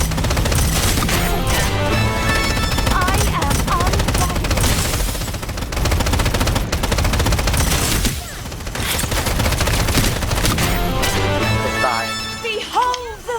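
Loud, dense bursts of automatic gunfire in the shooter game Strinova, rattling almost continuously with brief gaps, mixed with game effects and excited voices talking over it.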